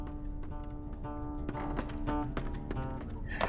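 Horse hooves in the online game Lord of the Rings Online, a steady rhythmic clip-clop of a mount travelling, moderately loud over a faint humming game soundtrack, with no talk.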